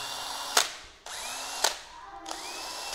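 Cordless Japanese-made drill in fast speed mode, triggered in short bursts: each burst starts with a sharp click, whines up to a high steady pitch and cuts off, repeated about three times, close by with no voices.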